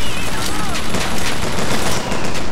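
Turret gunfire in the video game Bioshock Infinite, a loud, dense, continuous fusillade of rapid shots filling the whole stretch, with voices faintly mixed under it.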